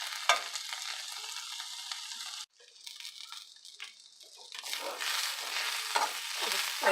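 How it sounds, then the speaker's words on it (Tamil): Onions and ivy gourd are stirred and sautéed in a pan, giving a soft steady sizzle with scraping spoon strokes. A brief lull comes partway through, then the frying grows a little louder. "நான் வெங்காயத்தை கூட போட்டு கொஞ்சம் வதக்கிக்கலாம்"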